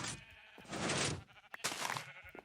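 Minecraft sheep bleat in short bursts, two loud wavering calls with a brief gap between, set against faint game noise and no talk.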